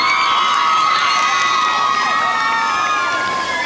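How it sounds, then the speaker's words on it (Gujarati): A school crowd, many children among them, cheers and shouts loudly and steadily throughout, with a dense wash of high voices and little distinct clapping. "આ તાળીઓ ખૂબ જોરથી વાગવી જોઈએ"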